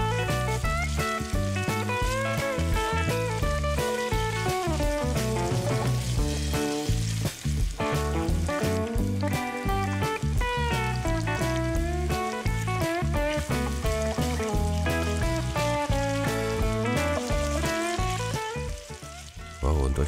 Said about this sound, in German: Und das braten wir schön knackig kross von allen Seiten erstmal an.